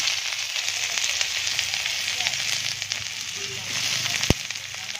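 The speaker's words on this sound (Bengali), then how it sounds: "আবারও তেল দিয়েছি। এবার দিয়ে দিচ্ছি পেঁয়াজ কুচি," Chopped onions frying in hot oil while making Maggi noodles give a steady, close sizzle throughout, with one sharp tap near the end.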